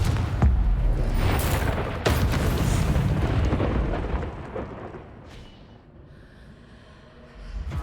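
Confringo fire spell blast in Hogwarts Legacy, a loud booming explosion with rumbling low end that erupts early and slowly fades into quieter game ambience.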